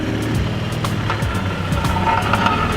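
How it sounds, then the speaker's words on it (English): A Lexus driving along with a loose brake shield, giving a continuous road and engine drone with faint irregular rattling taps over it. "Brake shield is what's making the noise."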